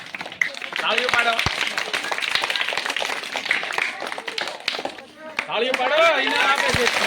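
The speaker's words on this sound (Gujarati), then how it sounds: "તાળીઓ પાડો" A crowd of spectators claps at a children's drawing competition on child labour, a busy burst of hand claps that dips briefly before rising again, mixed with voices and chatter throughout.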